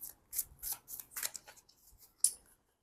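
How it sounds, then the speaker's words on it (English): Tarot cards are shuffled in quick, faint papery bursts, about eight short riffles in a row with a brief pause before a final snap. "Let me give it another shuffle."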